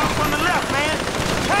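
Rapid gunfire in the video game GTA V, a dense burst of automatic shots under overlapping voices and game noise, short and continuous.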